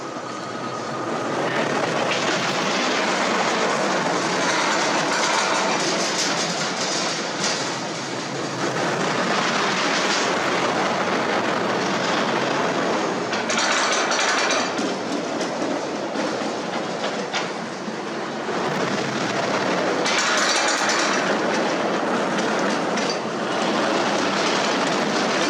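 A Hurricane roller coaster runs at a Funspot amusement park in Kissimmee, its cars rattling and roaring along the track in a steady, loud clatter that rises and falls in waves for the whole stretch, with no talk.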